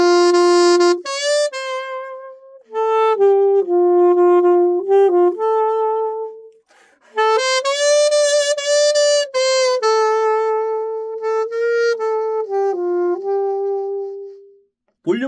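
A saxophone plays a Korean ballad phrase of connected notes with swelling, ebbing dynamics, rising and falling in loudness across several breaths with short pauses between groups, performed solo and close without talking.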